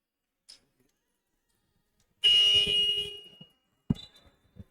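A loud electronic buzzer blares for about a second at a women's basketball game between Elan Chalon and Cornella, followed by short bursts of arena noise and thumps.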